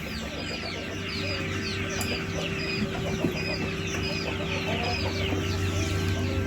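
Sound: Japanese bantam chickens clucking on a farm

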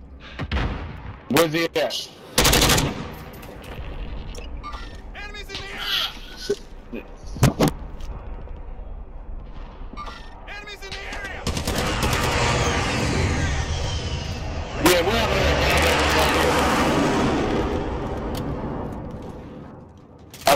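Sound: gunfire in video game Call of Duty

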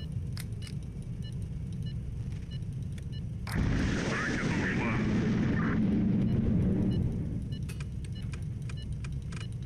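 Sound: heat-seeking missile strike in video game Highfleet

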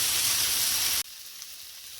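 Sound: bazlama flatbread frying in butter in a pan

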